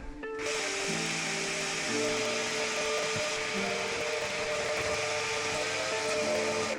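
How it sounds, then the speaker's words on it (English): A vacuum cleaner hoovering a bedroom floor in an Irish farmhouse before varnishing: a loud, steady motor whine with a broad hiss, running continuously, its pitch shifting slightly as the hoover moves. "Now, one quick hoover and quick rub with a bit of white spirits"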